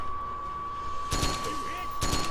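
Suppressing gunfire in Metal Gear Solid 4: Guns of the Patriots, two loud bursts of rapid shots over a steady game background.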